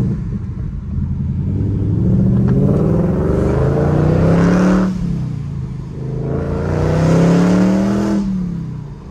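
Supercharged Ford Mustang Mach 1 engine revving in two loud rising surges, each climbing in pitch and then easing off, heard close up with no talk.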